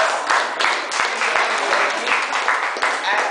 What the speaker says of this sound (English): I will request a big round of applause to Sheetal ma'am too